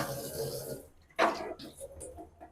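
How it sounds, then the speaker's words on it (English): Fridge parts scrubbed with a soapy sponge and water, wet rubbing and splashing in short bursts with one sharper scrape partway through, close up and moderately loud. "You can see that similarly I'm washing all the other three. Just wash it with a sponge"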